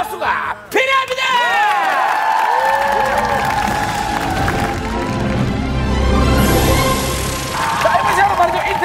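A Korean TV talent-show studio audience breaks into loud, sustained applause and cheering with whoops, while music and a host's voice carry over the crowd noise.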